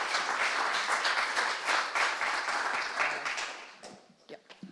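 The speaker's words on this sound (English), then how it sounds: "You can give her a round of applause too." Audience applause at a science policy session as a speaker takes the stage, a dense steady patter of many hands that holds for several seconds, then thins into scattered claps and fades.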